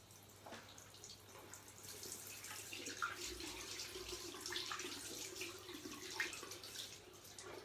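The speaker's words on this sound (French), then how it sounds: "maintenant je vais rincer à l'eau tiède" Lukewarm tap water runs steadily while a face is rinsed at a sink during a morning skincare routine, a continuous soft splashing and trickling with small drips, close and moderately quiet.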